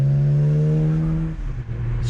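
A 600hp BMW 335i on the move, its engine humming loud and steady before the revs drop and shift, with no talk over it.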